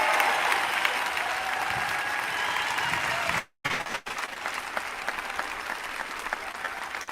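A town hall crowd applauds veterans with steady, continuous clapping from a sizable audience, broken by a brief dropout before the applause resumes.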